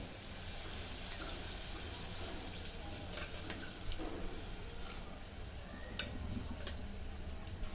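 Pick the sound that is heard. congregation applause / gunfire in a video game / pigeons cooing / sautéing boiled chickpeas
sautéing boiled chickpeas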